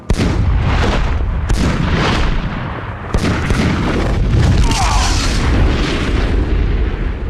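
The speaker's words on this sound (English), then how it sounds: "Target identified as Kryptonian. Commence firing." Robots open fire with heavy weapons in the Superman: Shadow of Apokolips game, a loud run of booming blasts and bursts with sharp hits near 1.5 and 3 seconds, dense and continuous throughout, no voices.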